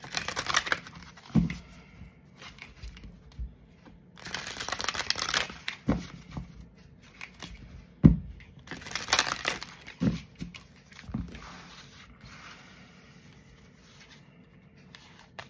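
Tarot cards are shuffled by hand in soft, irregular bursts of riffling and sliding, punctuated by sharp taps as the deck is squared, fairly quiet and close with no talking.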